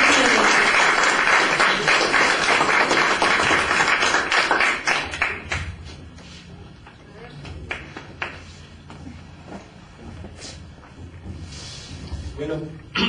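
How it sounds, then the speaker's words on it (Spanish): Loud group applause for a volunteer coming forward at a church gathering, full at first then thinning into scattered claps and murmurs as a voice begins speaking. "Dale un aplauso al hermano para que se anime."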